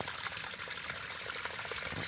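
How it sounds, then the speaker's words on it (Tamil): Water runs through a channel in a farm field, a faint, steady pouring and trickling wash with no voices. "சாலனா ஓரளவுக்கு கரெக்டாக தண்ணி போயின்னு இருக்குது சார்."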